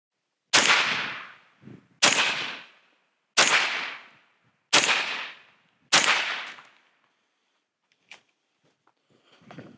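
Five pistol rounds are fired in steady succession on an outdoor shooting range, each sharp crack loud and close with a short decaying echo, followed by quiet with faint handling noises.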